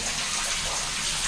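Water runs from a tap in an Indian home in a steady, loud, broadband gush, close and continuous for the whole stretch, with no voices.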